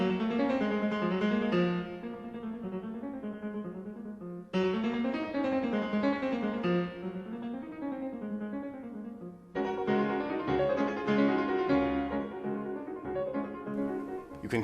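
Balakirev's Islamey, a virtuosic piano piece inspired by a Circassian folk dance, played solo with rapid repeated notes and chords in dense, driving figures that restart in fresh bursts.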